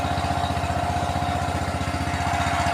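A tractor in a farm field near Amloh, Punjab, pulls a power-line earth wire by rope. Its engine gives a close, steady, fast chugging pulse, constant and unbroken, with no voices.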